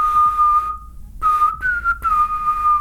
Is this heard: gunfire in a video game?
no